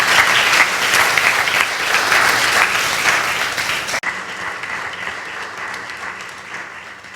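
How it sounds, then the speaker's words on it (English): Sustained audience applause after a Carnatic vocal arangetram concert, loud and dense for about four seconds, then dropping abruptly to a quieter, thinning clapping that fades toward the end. "Let's give her yet another round of applause"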